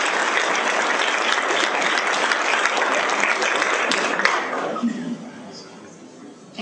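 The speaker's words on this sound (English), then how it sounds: "big round of applause for them" Crowd applause at a Chicago forum: loud, dense clapping from many people that holds steady, then thins out and fades toward the end, with faint voices under it.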